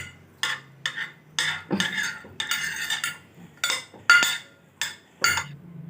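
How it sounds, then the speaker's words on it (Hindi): A spoon scrapes and clinks against a bowl while chopped capsicum and garlic are mixed for chilli cheese toast, in repeated short metallic strokes with brief gaps between them, close and clear with no talking. "चॉप्ड गार्लिक अब मैं डालने जा रहा हूँ और अब मैं इससे मिक्स करूँगा"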